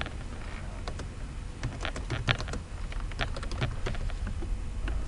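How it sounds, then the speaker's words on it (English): Lines of code are typed on a computer keyboard, the keys clicking in quick irregular runs of close, soft taps over a faint steady background hiss, with no voices. "you can then start typing lines of code as you need to"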